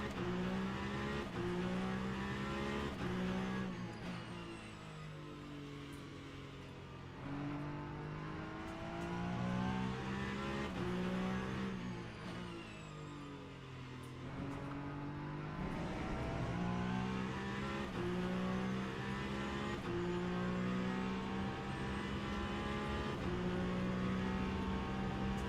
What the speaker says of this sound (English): Big fat slow Peugeot coming through.